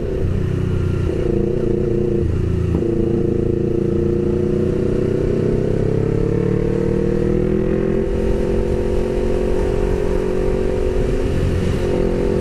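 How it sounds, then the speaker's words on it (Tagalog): A Honda CB400 motorcycle engine hums steadily while riding, a smooth continuous drone with slight pitch shifts as the revs change, loud and close throughout. "Smooth ng tunog ng motor niya."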